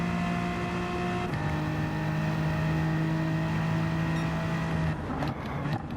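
A BMW M4 Gr.4 race car engine holds full throttle in fifth gear at Interlagos in Gran Turismo 7, giving a loud, steady, high-pitched drone with one quick gear shift early and a brief lift near the end.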